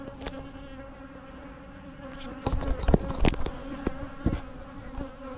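Angry honey bees swarm around opened hive boxes, a dense, continuous buzz with individual bees swelling loudly past close by.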